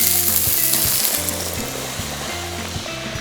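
Mushrooms and Japanese leek stir-fry in a pan with a steady loud sizzle. A regular low hum and periodic scraping stir strokes run through it, with no voices.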